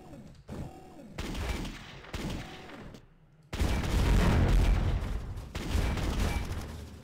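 Heavy shotgun blasts in the sci-fi shooter game Bad Bots, several loud booming shots with short silent gaps, the later ones merging into a sustained roar of fire.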